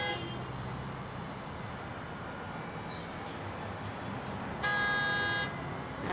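A car horn honks in one steady blast of about a second near the end, standing out over a constant roadway-like background hum.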